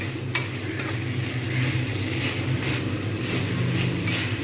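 Potatoes and onion greens frying in a pan, a steady close sizzle with scraping stirring throughout and a brief utensil clink near the start.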